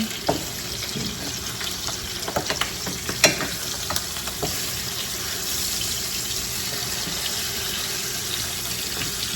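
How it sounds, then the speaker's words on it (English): Three turkey wings fry in a hot pan for sticky wings, a steady close sizzle and hiss running throughout, with a few sharp clatters and scrapes as the wings are turned, and no talking. "Three turkey wings. Flip this turkey wing."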